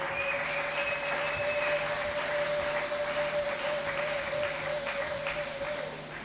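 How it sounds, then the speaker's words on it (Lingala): A church congregation claps their hands steadily and continuously for several seconds. The dense clapping is heard over a held musical tone and fades slightly at the end. "Betela lo banazambe maboko. Ozobeta maboko na malili makasi."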